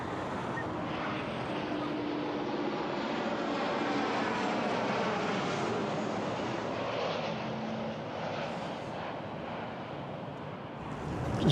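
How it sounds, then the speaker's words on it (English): Near Itami Airport, an airplane flies low overhead, a broad continuous roar that holds for several seconds and eases slightly toward the end, mixed with wind noise on the microphone. "planes keep flying overhead and distracting me"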